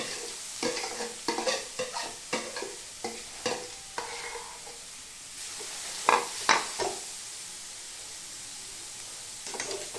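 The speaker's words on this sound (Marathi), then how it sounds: "आता हे गाजर मी किसून घेतले आहे, ते आता तुपामध्ये फ्राय करते" Grated carrots stirred in hot ghee in a wok for carrot halwa, a continuous soft sizzle broken by a run of rhythmic spatula scrapes and a few louder knocks, no voices.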